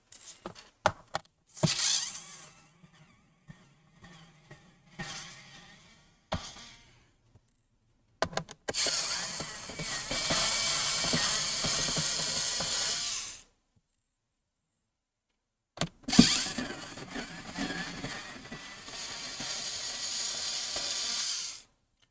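Screws come out of the back cover of an Asus Vivobook 17 laptop: a few small clicks and taps, then two long, steady whirring bursts from a driver, close and fairly loud, with a silent gap between them.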